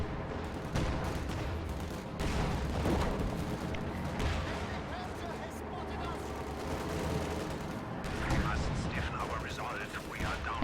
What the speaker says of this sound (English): Anti-tank gun taking shots at the Sherman right there.